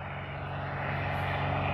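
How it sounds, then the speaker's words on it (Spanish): Crop-dusting airplane spraying over a wheat field, its propeller engine a loud, steady drone that swells gradually as it passes close overhead. "El avión ahí viene, verás."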